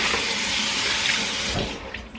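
Cast iron cookware being rinsed under a kitchen tap, steady loud rushing water that drops off near the end.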